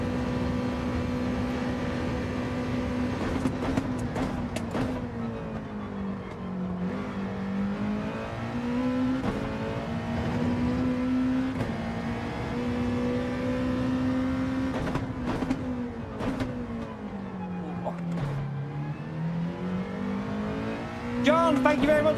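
Race car on soft tyres in Gran Turismo 7 GR.2 championship, a loud continuous engine drone rising and falling with gear changes, with brief tyre and kerb noises and occasional clicks.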